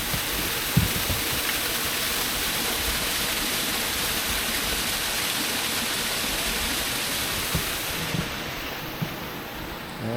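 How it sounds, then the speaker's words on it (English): Water runs steadily beside a small frozen waterfall at a winter back-road campsite, a continuous close rushing wash with no voices over it for the whole span. "I hear the water running. And here is a frozen little waterfall right next"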